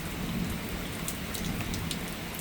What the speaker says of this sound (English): I think the worst of the storm is already through, although it's still very windy